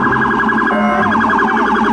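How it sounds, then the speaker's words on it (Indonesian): A toy police car's electronic siren wails continuously with a warbling, rising-and-falling tone, loud and close, with no talking over it. "Mobil polisi."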